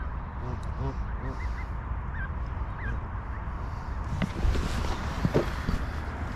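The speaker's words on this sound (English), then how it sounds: "Family of geese decided to come and say hello." A family of geese at a fishing lake, honking and calling in short, repeated bursts over steady outdoor background noise, with some handling knocks near the end.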